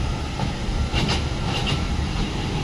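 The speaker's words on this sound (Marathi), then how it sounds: "ही आहे ती ट्रेन वंडर पार्क मधली." A small amusement-park train at Wonders Park in Navi Mumbai rolls past with a steady rumble and faint clickety-clack of wheels on track, moderately near, with no voices.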